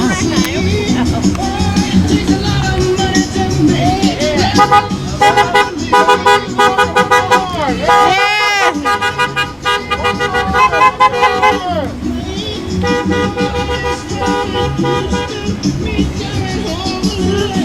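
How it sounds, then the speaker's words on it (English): Repeated car horn toots at an MLK commemorative parade sound over a loud, busy background of music and chatter, with honks recurring throughout. "Honk that horn all the way around!"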